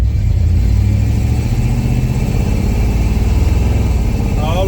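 A 1990 Chevy K1500 truck engine pulls hard in first gear, a loud close steady mid-pitched roar climbing in revs throughout, alone without talk.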